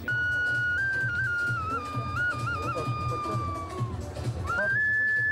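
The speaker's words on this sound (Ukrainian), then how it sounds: "Майстри експериментують не тільки із дизайном, але й зі звуком глиняних свистунців." Shrill clay whistles blown in long wavering tones that step up and down in pitch, a second sustained whistle joining near the end, over a murmuring crowd at an outdoor pottery workshop.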